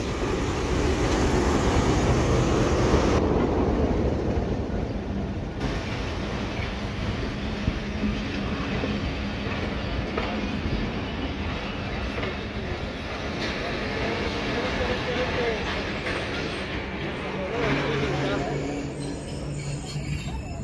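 The Kohat Express train passing close by, a loud rushing roar with rattling wheels that gradually eases, with people talking faintly underneath.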